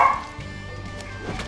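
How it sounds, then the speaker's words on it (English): Dogs bark and yip briefly nearby, a sharp burst at the start followed by softer whimpering yips, cutting across background game music. "interrupted by my dogs"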